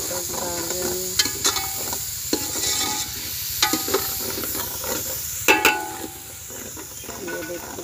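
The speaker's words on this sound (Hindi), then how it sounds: "ये टमाटर डाल रही है।" Tomatoes are tossed into a frying fish curry masala in a village kitchen, a steady close sizzle broken by sharp stirring clinks and scrapes, with a voice talking faintly underneath.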